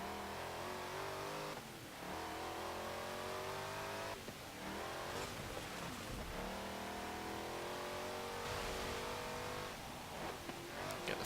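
A 2018 Honda Odyssey minivan engine in Forza Motorsport 7 screams at high revs, repeatedly climbing and bouncing off the rev limiter between gear changes, loud and continuous with no talk.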